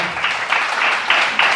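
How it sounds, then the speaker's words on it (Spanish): A church congregation claps during a service, a brief burst of dense applause with a few swelling waves of clapping. "Dale un fuerte aplauso al Señor."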